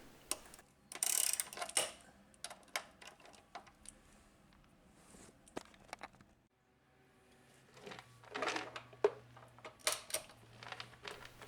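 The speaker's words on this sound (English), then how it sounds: "I'm only going to loosen the axle nut at this stage because the bike is not on the jack yet." A ratchet wrench loosens the axle nut on a Honda NC750X motorcycle, giving a quiet, close ratcheting with rapid clicks in short bursts, separated by pauses and light metal handling noises.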